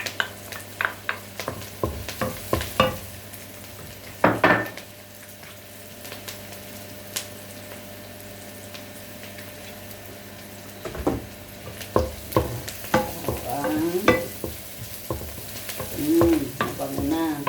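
Onion and garlic stir-frying in a pan, with a steady sizzle under repeated clacking and scraping of a utensil, a quieter stretch in the middle, then renewed stirring and louder frying up close.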